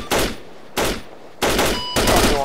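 Loud bursts of rapid automatic fire from a military video game set in Afghanistan, four separate sustained volleys in quick succession, each starting sharply and holding steady with a dense crackle.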